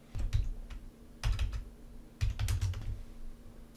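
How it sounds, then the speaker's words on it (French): Typing on a computer keyboard while writing a file template in a text editor, with three short bursts of quick key clicks separated by pauses, close with a faint steady hum beneath. "Je tape un modèle de fichier"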